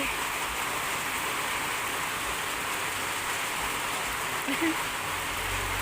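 Steady rain pouring down, a dense continuous hiss of drops hitting surfaces, with a brief faint sound near the end.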